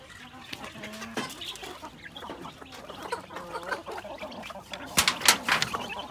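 Young chicks clucking and peeping in a pen kept for the breeding season, a steady scatter of short calls with a louder burst of cheeping near the end.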